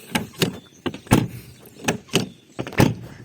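Door of an Opel Corsa B 1.4 60HP Swing worked repeatedly, a series of sharp clunks and latch clicks spaced about a third of a second apart, close and fairly loud, no talking.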